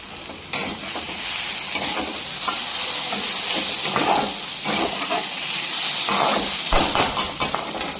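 Vegetables sizzling in a pan after a little oil goes in, a loud steady hiss with intermittent stirring scrapes and clatters, close and continuous, no one talking.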